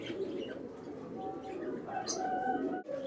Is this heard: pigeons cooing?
yes